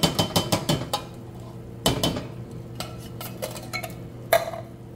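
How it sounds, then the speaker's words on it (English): Canned fire-roasted tomatoes are dumped into a metal cooking pot for spaghetti sauce, with a burst of clanks and scrapes at the start, a few sharp knocks in the middle, then quieter stirring and tapping. "Dump both of the 2 cans in there."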